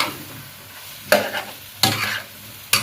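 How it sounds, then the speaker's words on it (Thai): A cucumber stir-fry with seasoning powder cooks over high heat and is stirred in a pan. Three sharp, separate spatula scrapes stand out over a soft background sizzle. "คนให้เข้ากันค่ะ"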